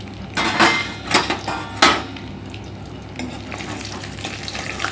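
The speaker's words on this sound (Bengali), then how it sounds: "ফার্স্টে আমি ডিমগুলো ভেজে নিলাম, ভেজে এবার তুলে নেব।" Eggs frying in oil in a pan for egg curry, a close sizzle with a few loud scraping, clattering strokes of a spatula near the start, then a quieter steady fry.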